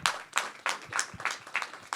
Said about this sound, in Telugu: ఇప్పుడు ఈ చప్పట్లు కొడితే వినపడుతుంది